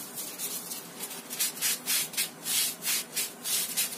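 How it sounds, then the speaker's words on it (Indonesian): Paper towel is rubbed inside a stone mortar (cobek) to dry it, making a rhythmic series of close, scratchy swishing strokes, about a dozen back-and-forth wipes with no speech. "Ini aku akan keringkan dulu cobeknya karena bekas dipakai ya."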